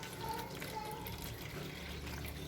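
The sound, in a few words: water being poured into bread dough ingredients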